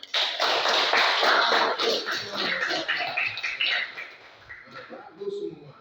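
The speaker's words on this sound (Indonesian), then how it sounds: "Coba tepuk tangan dulu." Classroom of pupils clapping hands together on a teacher's cue, a burst of lively overlapping claps that thins out and fades toward the end, with children's voices underneath.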